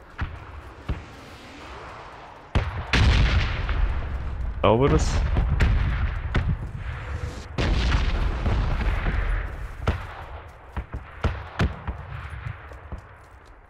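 Explosions and gunfire in the battle royale game PUBG, near napalm, with loud booming bursts and sharp cracks through the middle of the clip, under ongoing German conversation between players.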